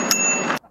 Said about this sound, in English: what bikes come with a bell nowadays?